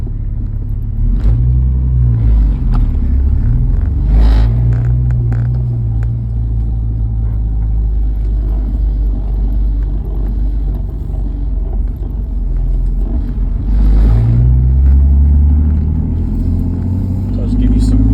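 A car with a chassis-mounted shifter drives along with a continuous low engine and road rumble, the tone dipping and rising with slow, gentle gear changes, while a person talks over it throughout.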